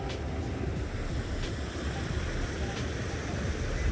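Water pouring down through a lock on the Cromford Canal in Derbyshire, a steady broad rushing roar with no breaks, loud and close, with faint wind noise.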